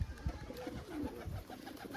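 Pigeons kept at a home loft give soft, low cooing calls in short repeated bursts, moderately close, over faint background noise.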